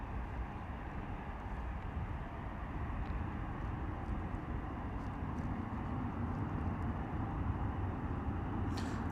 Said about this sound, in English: Lovely rotation there from the EasyJet A320